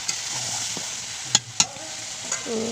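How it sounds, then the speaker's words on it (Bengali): Soaked potatoes sauté with chicken in a pan, a quiet sizzle broken by a few sharp spatula knocks against the metal and brief stirring scrapes, heard up close without talking. "ভিজে রাখা আলুগুলো দিয়ে দিলাম দিয়ে আবার একটু কষিয়ে নেব"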